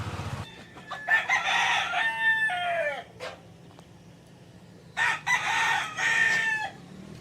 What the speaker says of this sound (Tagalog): Dami nilang manok.